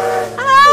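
A steam train whistle in a Taiwanese-language radio drama sounds as a steady, harmonic tone that rises in and holds to the end, fairly loud and close.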